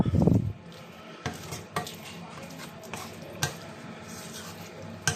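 A utensil stirs chicken in a pan with Chinese cooking wine, giving scraping clinks and a few sharp knocks against the pan over a low, soft sizzle, close up and without talk.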